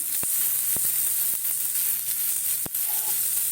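Carrots and other chopped vegetables go into a hot pan for vegetable soup, giving a steady close sizzle with a few sharp clicks and taps from stirring.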